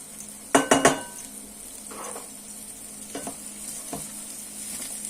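Vegetables with garlic sizzle gently in butter in a pan for couscous, a steady soft frying hiss with a few sharp clinks of a utensil against the pan early on and light stirring scrapes.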